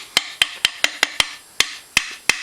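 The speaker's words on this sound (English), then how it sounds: "We may have to coax it with a few taps from the hammer" A hammer taps gears into a Suzuki RM 85 motorcycle engine, about ten sharp metallic strikes at an uneven pace, close and loud, each ringing briefly before the next blow.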